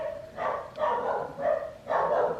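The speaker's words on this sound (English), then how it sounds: "My dog is just barking" A pet dog barks four times in a steady rhythm, each bark drawn out and close by, with no talking over it.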